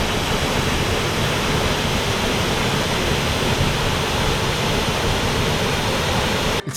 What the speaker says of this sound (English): Since we had the waterfall for ourselves, we decided to stay in its cold waters for a while.